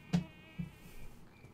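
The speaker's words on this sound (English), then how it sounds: "I hear crickets." Insect buzzing in a video game, a faint close whine with a couple of soft thumps, quiet and brief.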